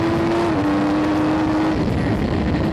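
Racing motorbike on track at full throttle, a steady loud engine drone with a sustained tone that dips slightly as the rider backs off and brakes, continuous throughout.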